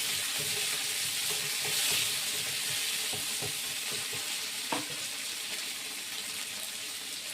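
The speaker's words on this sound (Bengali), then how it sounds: "টমেটো ক্যাপসিকাম সব একসঙ্গে দিয়ে দিচ্ছি। একটু ভাজা ভাজা যখন হবে" Tomato and capsicum fry together in a pan with a soft, steady sizzle, broken by occasional stirring scrapes and a single sharp clack near the middle.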